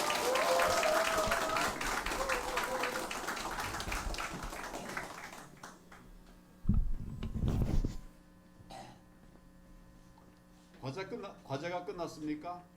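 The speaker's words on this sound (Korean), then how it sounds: "서로를 위해서 박수를 한번 부탁합니다." Applause from attendees at a political meeting in Daejeon, a dense burst of clapping that fades away; afterward a cough, a brief thump and a few spoken words.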